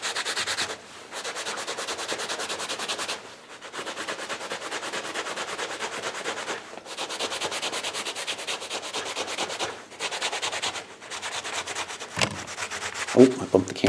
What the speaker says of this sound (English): So here, just give it a good scrubbing.